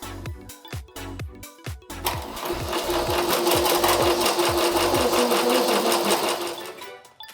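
An embroidery machine stitches a 3D puff design onto a hat, opening with a few separated needle strokes before settling into a loud, fast, steady mechanical chatter that cuts off near the end.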